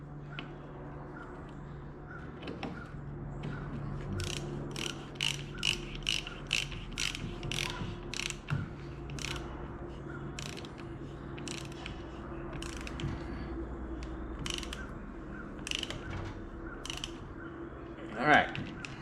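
Ratchet wrench tightening a fill plug on a 1961 VW Beetle transaxle, a steady run of sharp ratcheting clicks in bursts, close and clear over faint background.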